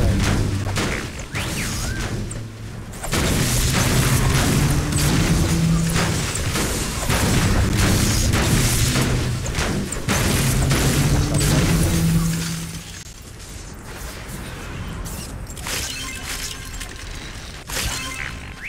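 Shotgun blasts in Fortnite, heavy booming shots and crashing impacts at irregular intervals, loud and close, with a busier stretch of repeated firing before a quieter tail of game effects.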